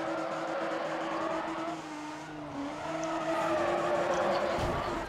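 Continuous engine roar and drawn-out tire squeal from a drifting car in Need for Speed ProStreet, steady and fairly loud throughout with pitch shifting as the car slides.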